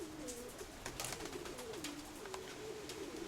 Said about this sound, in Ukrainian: Ось вона, 56-та голубка.